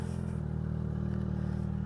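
A derestricted Yamaha XJ600 motorcycle on a test ride, its engine droning steadily and loudly with a constant low hum and no voices.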